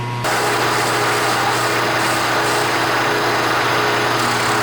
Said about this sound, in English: we'll put it back on the balancer